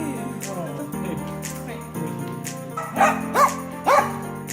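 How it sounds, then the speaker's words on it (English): A dog gives three short, sharp barks and yips close by near the end, following a stretch of whining and background noise indoors. "Look at this dog."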